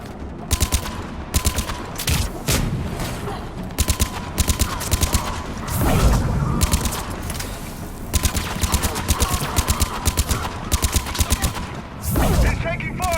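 Rapid weapon fire in Mass Effect 3 Legendary Edition, dense repeated shots in quick bursts over loud combat noise, with shouted voices mixed in.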